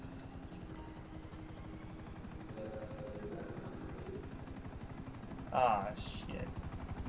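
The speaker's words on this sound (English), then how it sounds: "Helicopter's chasing us." In GTA 5, a helicopter's rotor chops steadily and rhythmically throughout, with a brief louder burst near the end and a man swearing briefly over it.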